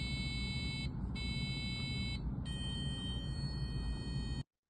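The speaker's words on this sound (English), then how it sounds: "Behind them is a buzzer that is giving them that prompt" A Glycobreath breath-testing device buzzer sounds in three long tones, the last one longest, over a loud low engine-like hum, then cuts out.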